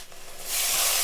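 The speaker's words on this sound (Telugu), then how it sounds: "ఇదిగోండి ఉల్లిపాయ ముద్ద కూడా వేసేసుకుందాం. కొంచెం అవి దోరగా వేగాలి." Onion paste hitting a hot pan for chicken curry-leaf pakoda, a soft rubbing start that swells into a loud, steady sizzle and hiss.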